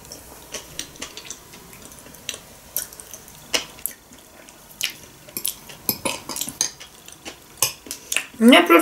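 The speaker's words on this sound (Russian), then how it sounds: "На хлеб намазала, вилкой подцепляю." A metal fork taps and scrapes against a plate during a meal of mashed potatoes and salad. The clinks are close and irregular, repeating through the meal, with a louder cluster of scrapes at the end.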